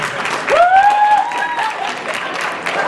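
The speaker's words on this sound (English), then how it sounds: "Now keep clapping if it worked." A comedy showcase audience clapping, a dense burst of applause that swells and fades slightly over a few seconds, with a brief whistle-like tone early on.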